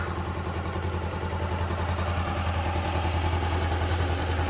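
A Honda CBR500R motorcycle idles through its stock exhaust with a steady, close, low rumble and an even pulsing throb, and no one speaks over it.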